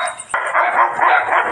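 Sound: dogs barking

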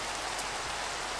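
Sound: rain falling in the video game Minecraft

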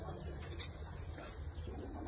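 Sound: pigeon cooing

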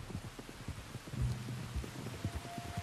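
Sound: rain in video game Red Dead Redemption 2

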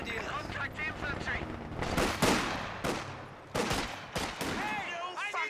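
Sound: gunfire in Company of Heroes 2 video game

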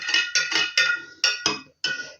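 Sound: stirring salt brine with a spoon

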